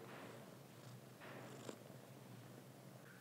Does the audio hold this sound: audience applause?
no